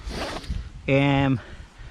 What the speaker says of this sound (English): it's got a zip, so it goes all the way down so you can get right inside to the compartment